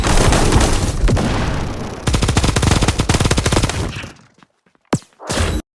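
Rapid machine-gun fire rattles loudly and continuously in the mobile shooter game Bullet Echo, then breaks off into a couple of sharp blasts as a bomb drops.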